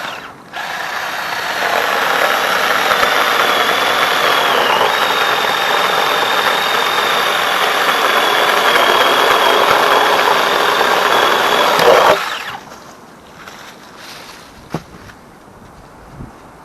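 A small mini chainsaw cuts through a larger tree in the woods, its engine buzzing loud and steady for about eleven seconds before cutting off, leaving quiet outdoor ambience with a faint click.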